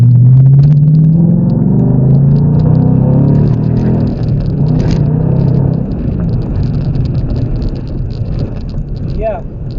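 Ford Mustang GT engine driven hard at speed, a loud, close, steady rumble whose pitch climbs at the start and then holds as a dense drone, with a voice talking over it.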